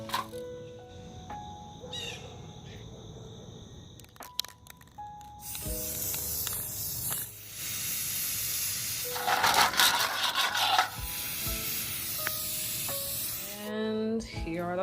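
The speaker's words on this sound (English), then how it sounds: "Now all of the acorns are glued and are ready to be spray painted." Aerosol spray paint hisses in bursts over glued real acorns being prepared for decorating, a steady close broadband spray with short pauses and handling clicks between passes.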